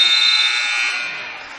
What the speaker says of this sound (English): As Feasby tries to get some additional points just before the buzzer, but to no avail